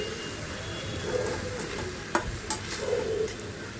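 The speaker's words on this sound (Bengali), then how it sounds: "দেখুন আমার এখানে পাট শাকগুলো মোটামুটি ভাজা হয়ে এসেছে।" Jute leaves (pat shak) fry in a pan while being stirred, giving a soft steady sizzle with a few sharp utensil taps and scraping sounds close by, and no voices.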